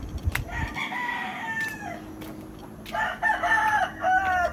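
Roosters crow loudly nearby, two long calls separated by a pause, with chickens clucking and rustling around them.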